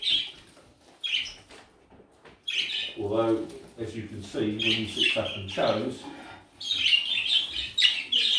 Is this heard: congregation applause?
no